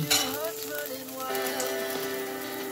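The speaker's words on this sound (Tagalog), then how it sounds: "magigisa tayo ng sibuyas sa kalula" Chopped onion sautéing in a pan, a steady close sizzle and crackle that holds evenly throughout with a faint tonal hum underneath.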